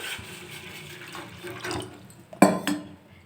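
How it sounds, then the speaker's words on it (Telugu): Water is poured from a tap into a bowl for a ragi drink, a steady trickle that ends with a sharp clink of the bowl near the end. "ఫస్ట్ అయితే ఒక బౌల్ తీసుకొని ఇందులో వాటర్ అయితే వేసుకోవాలండి"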